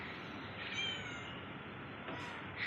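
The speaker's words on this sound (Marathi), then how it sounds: "इथे सगळ्या मांजरीचे आहेत" Several cats at an outdoor study corner on an evening walk give faint, brief meows over steady background hiss, with one short cry near the end.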